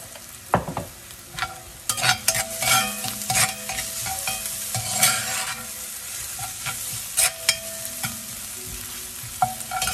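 Chopped onions with about a teaspoon of salt sizzle in a pan, broken up by repeated scraping, clattering stirs of a utensil against the metal; no voices.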